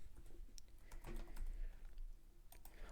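Clicks of typing on a computer keyboard, quick irregular taps close to the microphone over a low steady background hum.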